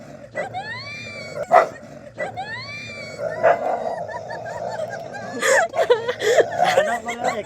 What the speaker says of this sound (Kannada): ಗೈಸ್ ಕುಸ್ತಿಗೆ ಬಿಟ್ಬಿಟ್ಟಿದೆ ನಾಯಿಗಳು.